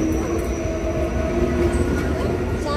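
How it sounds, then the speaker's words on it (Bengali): A train passing close by, a loud continuous rumble of wagons rolling on rails with a faint high squeal and steady mechanical drone throughout. "চলে গেল ট্রেন বাবাজি"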